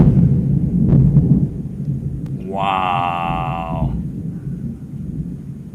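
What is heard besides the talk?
loud thunder shaking the house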